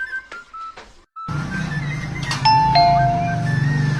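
Two-tone doorbell chimes ringing clearly indoors, followed by a second ding-dong with sustained ringing tones over a steady background hum.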